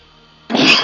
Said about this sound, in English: Sorry about those sneezes.